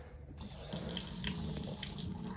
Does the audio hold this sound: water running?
yes